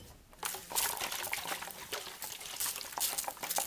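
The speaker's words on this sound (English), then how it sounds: "Water in nicely." Water sprinkles and trickles steadily onto freshly sown snapdragon, salvia or amaranthus seeds, a close, continuous splashing patter with small fluctuations.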